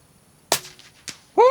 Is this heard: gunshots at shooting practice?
yes